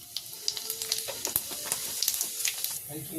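A small pinch of cumin seeds sizzles in hot oil, part of making a cauliflower paratha filling; close, crackling hiss with scattered sharp pops and bursts, and a faint voice briefly underneath.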